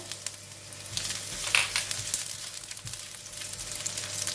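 Ginger fries in a pan for a stir-fry with eryngii mushrooms and goji berries, giving a close crackling sizzle with sharp utensil clatters and bursts, and no voices.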